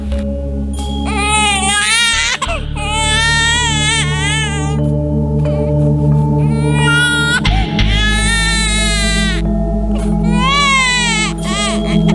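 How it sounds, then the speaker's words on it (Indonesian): Infant crying loudly in repeated wailing bursts during a twelfth-grade school drama performance of the Nyi Roro Kidul legend, with a steady low hum of the stage sound system underneath. "ia samar-samar mendengar suara tangisan bayi"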